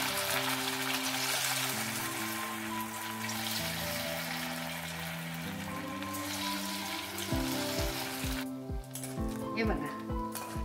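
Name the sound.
sago and potato fritters frying in hot oil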